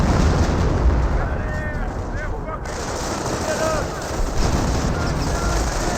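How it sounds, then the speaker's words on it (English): A sticky bomb or frag grenade blasts into a garrisoned building in Company of Heroes 1, a loud explosion rumbling over dense continuous battle noise while a commentator talks. "Sticky bomb or frag grenade has been thrown in the garrison"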